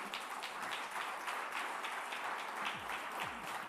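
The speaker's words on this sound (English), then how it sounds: "Ladies and gentlemen, let's keep the applause going." A conference audience at vdonxt Asia 2018 in Mumbai claps steadily after Ekta Kapoor's talk. The sustained, dense applause is heard from a distance, sounds faint and even, and carries no speech.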